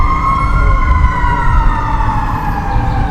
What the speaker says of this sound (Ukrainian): Поліція ловить жуліків. Треба почекати, як сирени пройдуть.